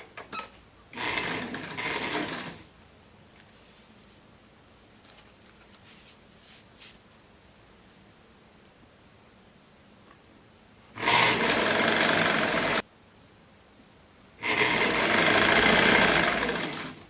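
Sewing machine stitching the side seam of a casual ruffled dress to the side of its lining, running in three loud bursts of about two, two and three seconds separated by quiet pauses.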